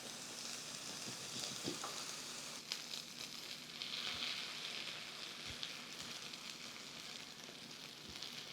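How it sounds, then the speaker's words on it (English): Black beans and Rotel tomatoes hit a hot pan and sizzle steadily, a continuous crackling fry with occasional soft clinks and stirring sounds, close and moderately quiet with no talk. "We're gonna go ahead and add our black beans to the pan."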